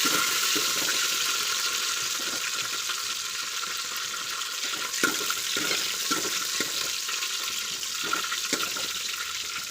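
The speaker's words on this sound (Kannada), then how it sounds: "ನೋಡಿ ಬೆಳ್ಳುಳ್ಳಿ ಫ್ರೈ ಆಗಿದೆ." Garlic and curry leaves fry in oil with a dense, steady hiss that runs throughout, with occasional light taps and scrapes of a spatula, close and unaccompanied by talk.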